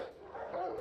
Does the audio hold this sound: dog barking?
yes